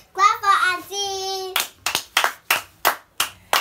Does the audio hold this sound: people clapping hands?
yes